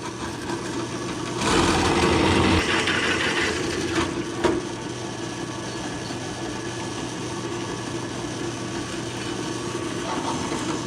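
A 9/16 bit drills into metal for a grease manifold on a Belsaw M-14 rebuild, a steady mid-pitched whirring grind that swells louder early on and then holds with a brief clunk.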